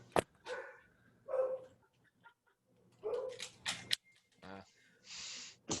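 A dog barks several times in short, irregular bursts close by, with yips and whimpers in between, while a person's voice comes through in the gaps.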